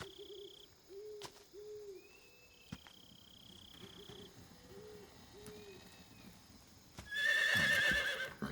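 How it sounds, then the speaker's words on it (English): A horse neighs and whinnies repeatedly in the video game Metal Gear Solid 3, with hoofbeat clip-clops, night insects and owl-like hoots, and a louder burst of game sound at the end. "Horsey."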